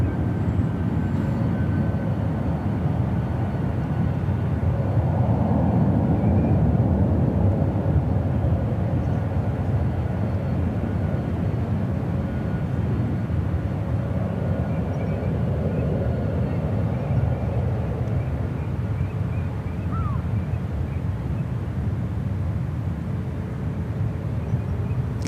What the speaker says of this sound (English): Getting that flight heading to Newark.